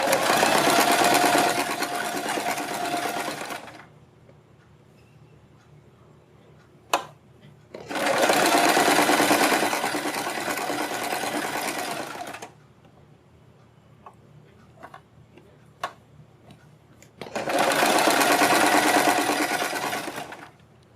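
Sewing machine stitching along the folded side edge of a kurti top's fabric: three long, loud runs of steady, rapid mechanical whirring, separated by quieter pauses with a few faint clicks.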